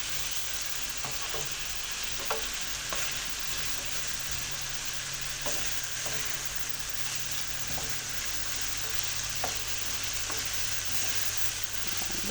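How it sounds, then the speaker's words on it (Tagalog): Bitter gourd (ampalaya) sautés in a hot pan with a steady, close sizzle and occasional scrapes of stirring, alone and continuous throughout. "Lutuin ko muna ng konti yung ampalaya naman ngayon bago ko ilagay yung itlog."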